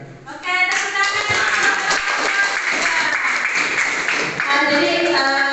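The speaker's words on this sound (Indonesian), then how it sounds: "Oke, tepuk tangan." A crowd claps steadily for several seconds while voices speak over the applause.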